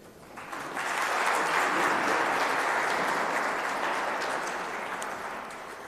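A foundation event audience breaks into sustained applause that swells within the first second, holds as a dense, steady wash of clapping, then slowly tapers toward the end.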